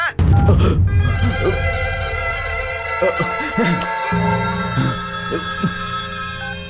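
A telephone bell rings in a steady, sustained trill at moderate volume while a voice talks in short phrases underneath.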